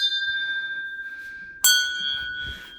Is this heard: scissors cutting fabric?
no